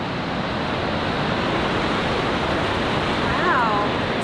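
Niagara Falls on the Canadian side, a steady roaring rush of falling water filling the scene, loud and continuous throughout with a faint bird-like chirp near the end.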